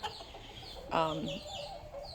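Two young backyard hens cluck close by, a short clear burst of clucking with a softer call following, over quiet garden background.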